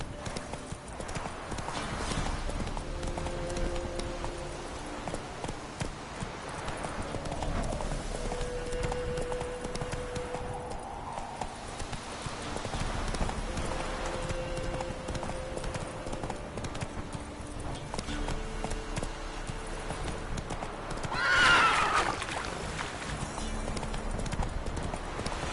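A horse gallops with a steady clip-clop in a PS4 game, hoofbeats continuous and close for the whole stretch beneath soft background music, with a short whinny rising toward the end.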